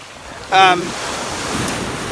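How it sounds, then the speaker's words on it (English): Ocean waves crash hard along a shoreline in a continuous windy wash of surf, with a brief tonal call rising near the start. "The waves are crashing hard right now"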